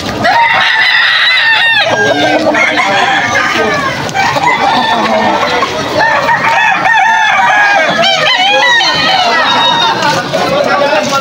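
Chickens and roosters, including bullstag roosters, at a busy Sunday market in Malolos, Bulacan: loud, close crowing and clucking from many birds overlapping continuously, with people chatting nearby.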